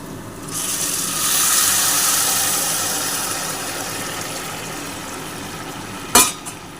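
Water pours steadily into a pan of fried rice while making basanti pulao, a broad rushing hiss that swells, eases and fades, with a sharp clank of a pan near the end.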